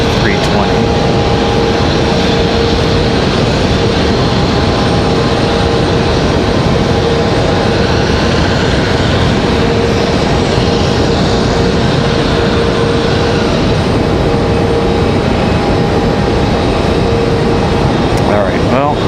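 Airliner in Griswold the Bear livery starting its engines on the ramp below at Raleigh-Durham airport, a loud steady rumble with a sustained whining tone underneath, a voice talking over it throughout.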